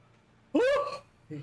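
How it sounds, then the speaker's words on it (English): A drawn-out, voiced yawn rises and tapers off, followed by a brief low vocal murmur. "that was a yawn, sorry"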